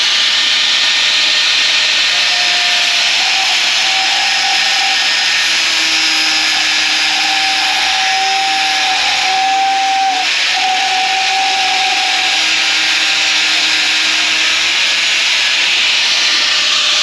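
Loud, steady power-grinder whine with a harsh hiss as an alternator tensioner clamped to a workbench is ground, the pitch wavering slightly as the tool bears down, with no voices.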